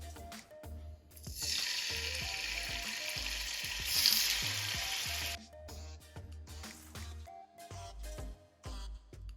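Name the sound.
chicken frying in hot oil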